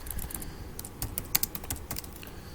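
Typing on a computer keyboard while entering math in MS Word: a close, steady run of light key clicks and taps in an uneven rhythm, with a few sharper strokes, alone with no talk.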